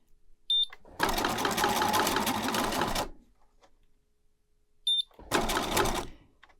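Two bursts of a home sewing machine stitching fabric for a heart-shaped tooth fairy pillow, each a few seconds of rapid mechanical chatter, separated by quiet with light clicks, close and without talk.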